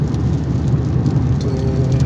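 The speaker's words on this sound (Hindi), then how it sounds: "अभी बारिश हो रही है" Heavy rain patters in a dense wash of noise on Makkah's 4th Ring Road, with a low rumble of passing traffic beneath it and no voices.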